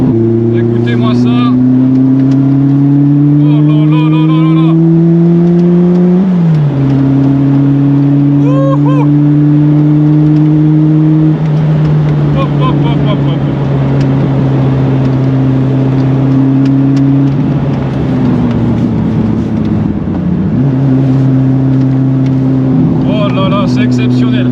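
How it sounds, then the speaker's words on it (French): Rear-mounted engine of a Renault R5 Turbo 2 revving hard through the gears, loud sustained rising drone with dips at each shift, heard close from inside the car. "Et puis on a le moteur qui est juste derrière."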